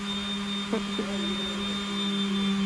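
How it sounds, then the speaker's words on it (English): A power sander works on a hurricane-damaged fibreglass catamaran hull, giving off a steady, droning whine with a strong constant hum. It runs unbroken throughout, with a couple of brief knocks near the start. "So our sander in the background is making lots of noise"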